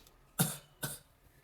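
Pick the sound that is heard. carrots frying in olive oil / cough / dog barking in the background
cough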